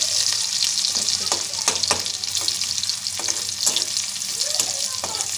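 Sliced onion sizzling and frying in hot oil in a pan, the start of a home-cooked palak paneer, with a continuous crackling hiss and occasional sharper pops and stirring scrapes, close and steady.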